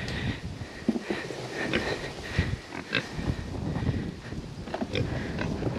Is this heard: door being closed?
no